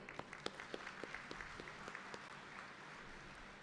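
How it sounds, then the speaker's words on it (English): Audience at an IIT graduation ceremony for the class of 2022 applauding, faint and distant, with a soft bed of crowd clapping and a few sharper individual claps standing out. "So I think the students deserve a big applause."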